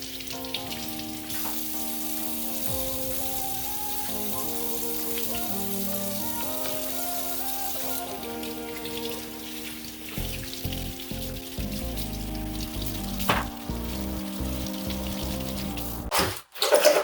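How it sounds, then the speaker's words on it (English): Tap water runs steadily over cut leeks as they are rinsed through their layers, a continuous hiss and splash with shifting tone as the leeks move, ending in a few clunks. "run your water through all the layers so you can get rid of all the dirt."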